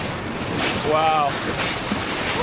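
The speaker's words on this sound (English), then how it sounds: "Here comes a wave." Ocean surf at a low-head dam breaks and rushes in broad washes, buffeted by heavy wind noise on the microphone, with a faint whistle-like tone partway through.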